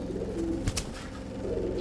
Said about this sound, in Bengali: এগুলো হাই ফ্লায়ার কবুতর